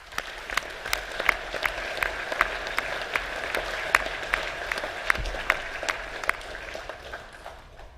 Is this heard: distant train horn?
no